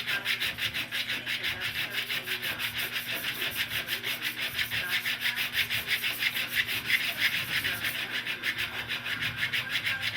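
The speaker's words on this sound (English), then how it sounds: "just trying to get all the front end pieces sanded down so we can get them in" Front end body pieces of a 1937 Chrysler Imperial roadster are sanded by hand in a steady, rapid back-and-forth rasping rhythm, close and continuous for the whole stretch, with no talking.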